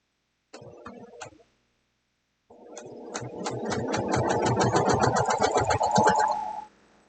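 A sewing machine stitches fabric guided by a flying geese ruler, a short burst of rapid needle ticking, a pause, then a longer steady run that ends abruptly, close and clear.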